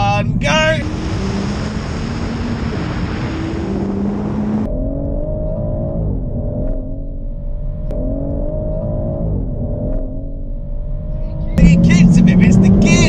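A BMW M140i accelerates hard in a race, heard from inside the cabin with a loud engine note that climbs, drops at each gear change and climbs again, under wind noise and with people talking.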